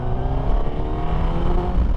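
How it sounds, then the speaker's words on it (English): A 2022 Suzuki GSX-S1000GT+ sport-touring motorcycle's four-cylinder engine revs hard, a dense, steady mechanical roar that holds loud and close without a break. "But if you want to scream the engine,"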